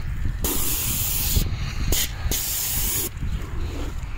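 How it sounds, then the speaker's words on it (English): A paint sprayer coats mobile home skirting in loud, steady hissing bursts of a second or so each, split by short pauses, with no voices. "He's shielding and I'm spraying."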